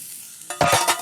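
Carrots, celery and onions being stirred in a little oil over medium heat, a short close burst of scraping and soft sizzle after a brief quiet moment, with no talking.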